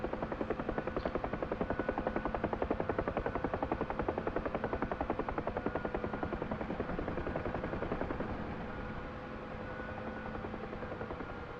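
A helicopter hovers in DCS World, a steady close rotor thump chopping in fast even rhythm over a constant engine whine, dropping slightly in level near the end.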